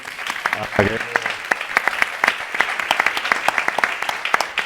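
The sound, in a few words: audience applause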